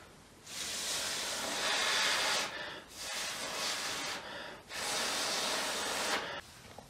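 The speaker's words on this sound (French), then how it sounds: "entre ses deux lèvres, comme ceci, et souffler au moins 4 secondes dessus" A person blows steadily on a sugar cube held between the lips, producing long breathy hisses of about two seconds each, three in a row with short gaps, close and fairly quiet.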